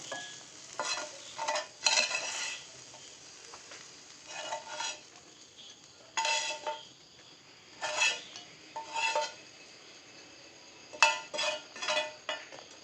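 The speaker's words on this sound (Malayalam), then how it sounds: "ഈ ഒരു ഭാഗം കൂടെ ഫ്രൈ ആയി വന്നു കഴിഞ്ഞാൽ നമുക്ക് ഇത് ഇറക്കി വെക്കാം" Brinjal (eggplant) coated in masala fries in a pan, with a low soft sizzle under repeated clinks and scrapes of a spoon or spatula stirring against the pan in irregular bursts.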